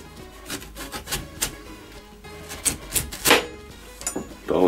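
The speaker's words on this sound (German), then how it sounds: "Als erstes werde ich mir jetzt hier erstmal eine daumendicke Scheibe von der Melone runterschneiden." A knife cuts a thumb-thick slice off a melon, producing a series of short, uneven rasping and crunching strokes up close, with quiet gaps between them.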